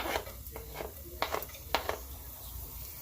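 Onion is stirred in a pan while making pork adobo, giving quiet scraping and light clinking of a utensil against cookware in short, irregular strokes over a faint background hiss.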